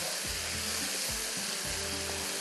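Onions frying in a pan for chicken and egg masala give a steady, close sizzle with a broad hiss, broken by a few low thumps from the pan, and no talking over it.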